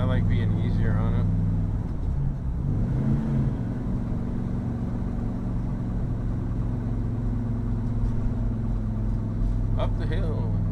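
A 1964 Chevy climbing a hill in third gear, its engine a loud steady low drone with a slight rise in pitch, heard from inside the car while someone talks over it.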